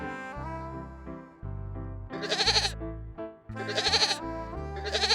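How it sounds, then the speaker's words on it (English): Goat bleating in three loud, drawn-out calls, each rising into a strained, quavering cry, heard up close with no other sounds. "Goat,"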